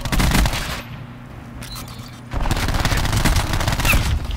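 Rapid automatic gunfire in the Black Ops video game, with loud bursts of shots at the start, a brief lull, then sustained heavy firing that carries on to the end.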